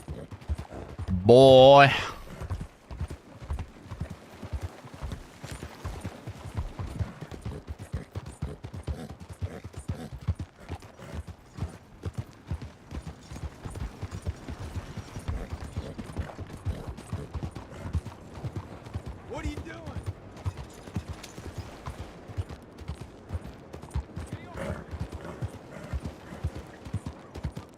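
Horse hooves clip-clopping in Red Dead Redemption 2, a steady rhythmic stream of hoofbeats at walking pace, with a brief whinny near the start and occasional short spoken words over it.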